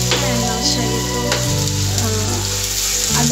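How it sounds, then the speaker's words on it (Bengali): Red amaranth leaves fry in a pan with a loud, steady sizzle and crackle that runs unbroken throughout, close up and with no voices over it. "লাল শাকগুলো এখন ভেজে ফেলতেছি।"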